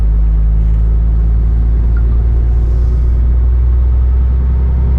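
A truck engine pulls away from a standstill, a steady loud low rumble that holds throughout without any talk, on an early road run toward Naberezhnye Chelny.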